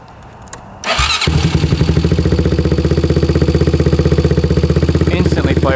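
Engine on a quad ATV built from the cheapest parts cranks and catches within a second, then settles into a loud, close, steady idle with a fast, regular chugging pulse.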